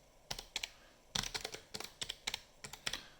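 Quick keystrokes tap on a computer keyboard in short clustered bursts, close and fairly quiet, with brief pauses between groups of clicks and no voices.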